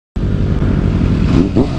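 A supercharged car engine starts abruptly and revs hard at close range, a loud, gritty roar with a slight rise in pitch near the end.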